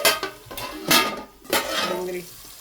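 A lid goes onto a pot of onions cooking for a spicy Gujarati-style prawn dish, giving a few close metallic clanks and rattles with a brief ringing scrape.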